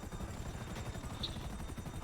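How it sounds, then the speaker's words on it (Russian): Helicopter in the video game GTA V Online, a steady rhythmic rotor chop pulsing evenly throughout at moderate volume, with a brief sharp tone in the middle and no talking. "Смотри, вертолет сейчас будет стрелять по нам."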